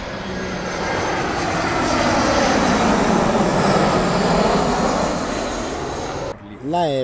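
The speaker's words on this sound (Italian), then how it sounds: "L'aereo con il logo verde di Transavia proviene da Parigi Orlai, da Parigi a Fiumicino." A Transavia airliner arriving from Paris Orly lands at Rome Fiumicino airport, its engine roar loud and sustained as it passes nearby before fading, with a voice starting to speak at the very end.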